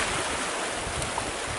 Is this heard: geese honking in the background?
no